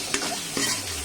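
Ginger frying in a pan for chicken curry, a close hiss of hot oil with two quick scrapes of a spoon, brief and steady.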